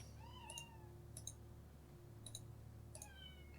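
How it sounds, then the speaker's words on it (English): A kitten meows repeatedly at a door, several drawn-out rising and falling cries with faint clicks between them, heard quietly against a low steady hum with no talk. "Oh, that kitten. I'm just going to let her back in again. She's whinging at the door."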